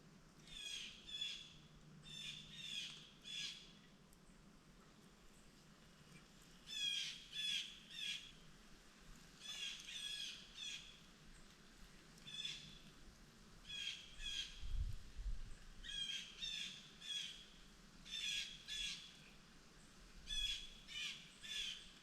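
Repeated squawking calls from a bird at a summer campsite, in bursts every second or two through the whole stretch, fairly close and clear over a quiet background, with a few low thumps.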